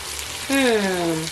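Ingredients fry in a pan for Nigerian jollof rice, giving a steady close sizzle, with a brief hummed voice tone over it partway through.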